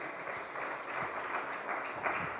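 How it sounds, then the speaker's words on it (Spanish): Audience applause at a research symposium, a steady wash of clapping from a room of people, moderately distant and even in level throughout. "un fuerte aplauso"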